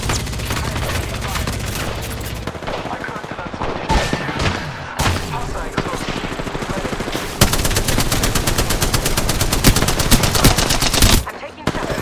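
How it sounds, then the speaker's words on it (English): Rapid automatic gunfire in the Apex Legends shooter game, dense bursts of shots running nearly the whole time, loud and close, with brief gaps between strings and a heavier, sustained burst near the end. "I'm taking shots."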